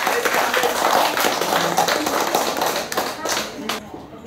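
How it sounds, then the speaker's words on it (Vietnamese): A crowd at a 40-year class reunion of the Trần Nguyên Hãn A3 class in Hải Phòng claps in a brief scattered round that thins and fades out, with voices mixed in. "Xin một tràng pháo tay chào mừng cuộc gặp gỡ ý nghĩa này."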